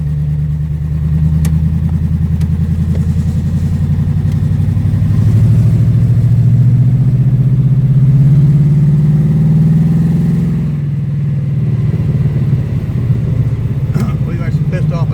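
A 1973 car engine with a newly replaced belt runs loudly and steadily up close, its tone rising slowly as revs build, then dropping back to a lower idle near the end, with people talking over it.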